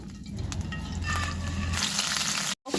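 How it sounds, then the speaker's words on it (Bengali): Fish pieces fry lightly in mustard oil in a pan, a close, steady sizzle with a brief clatter of handling near the start, cutting off just before the end. "সর্ষার তেল দিয়ে মাছগুলো এপিটপিটে উল্টিয়ে হালকা করে ভেজে দেবো"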